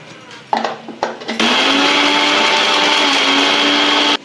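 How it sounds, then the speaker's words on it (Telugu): A kitchen mixer grinder grinds masala for a village-style country chicken curry, starting with two short pulses and then running as a loud, steady whirring whine for about three seconds before it stops. "ఇప్పుడైతే దీన్ని మిక్సీ పట్టేసుకుంటారు."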